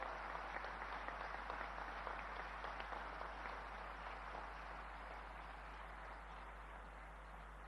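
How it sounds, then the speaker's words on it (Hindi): A large audience claps steadily to welcome the Prime Minister at the 125th Founder's Day programme of The Scindia School, a dense, sustained wash of applause that eases slightly toward the end, with no voices over it. "तालियों की गड़गड़ाहट से हम अपने प्रधानमंत्री जी का सिंधिया स्कूल के परिसर"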